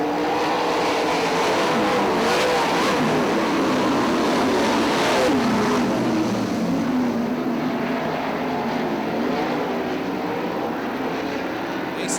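410 sprint cars race at Fremont Speedway in a steady, loud engine roar that swells and fades as the cars pass, with a race announcer talking over the continuous noise.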